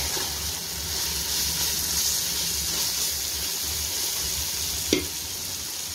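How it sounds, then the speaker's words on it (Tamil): Ginger garlic paste, three spoonfuls, sautéing in a pan for chicken biryani: a steady, close sizzle and crackle that runs the whole time, with one brief clink of a utensil near the end. "இங்கே 3 ஸ்பூன் ஜிஞ்சர் கார்லிக் பேஸ்ட் போட்டுக்கிறோம். போட்டு நல்லா சாட்டே பண்ணுறோம்."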